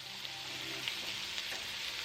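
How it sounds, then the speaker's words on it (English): Steady close sizzling of food frying in a pan for sopa de salchichón, a continuous crackling hiss with small pops and no talking. "listening to the sound of the sizzle on the pan is everything"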